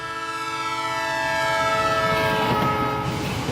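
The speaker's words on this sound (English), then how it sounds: "a train going by blowing its whistle" A passing train sounds a long, steady whistle that swells louder as it approaches, with rumbling wheel and track noise building underneath.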